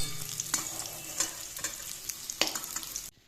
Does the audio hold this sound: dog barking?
no